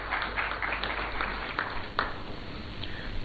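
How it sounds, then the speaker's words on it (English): Applause from the audience at a formal state-visit banquet for the Prime Minister of St. Kitts and Nevis, a steady dense patter of many hands clapping in a large hall. "Shall we welcome him with an applause?"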